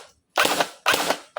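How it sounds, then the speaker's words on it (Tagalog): A Bohan MK8 gel blaster, a toy gun, fires up close: two sharp mechanical clacks about half a second apart, each with a short rattling decay, loud and alone. "Test fire natin. Prime. Single shot."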